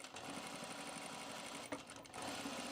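Sewing machine stitching a Sylvan Jacket, running in a steady continuous whir that briefly falters near the end before picking back up, close and moderately loud with no talk.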